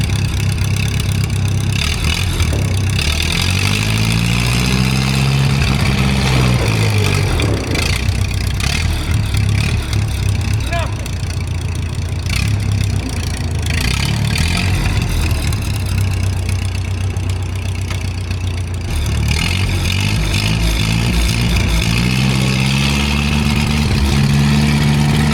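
The flying scraper, a heavy earthmover, runs its engine in first gear at full speed with the clutches pulled, a loud steady diesel drone with rising and falling revs and shifting harmonic tones, close and continuous throughout.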